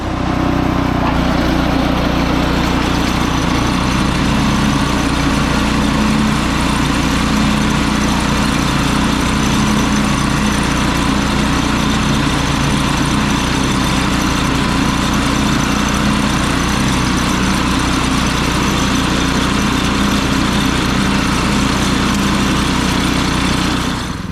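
Vintage Ariens lawn mower fitted with a Predator 224 engine runs steadily while cutting grass, a loud, continuous close-up drone that holds a constant pitch throughout with no talking.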